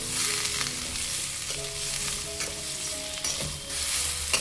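Onions, curry leaves and roasted chickpeas sautéing in a little oil on high flame, a continuous dense sizzle with occasional spoon scrapes against the pan, close and steady with no talking.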